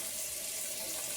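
Tap water runs steadily over a porterhouse steak in a sink, a continuous close rushing hiss with no pauses.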